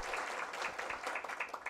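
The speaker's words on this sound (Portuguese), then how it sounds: "As palmas são merecidas, realmente." Applause at the opening of a national congress of state advocacy, faint and distant, with a short burst of claps heard alone.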